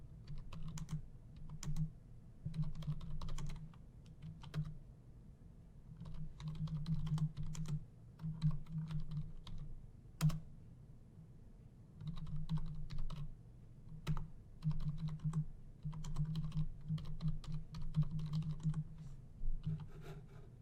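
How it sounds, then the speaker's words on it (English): Keys on a computer keyboard clatter in steady bursts of typing broken by short pauses, close and crisp, with a low hum running underneath. "The user can then type text and then click Update."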